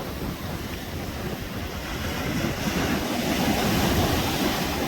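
Ocean surf washes onto the beach at the Seadust hotel in Cancun's hotel zone, a broad continuous roar of waves and wind that grows slightly louder, with no talking.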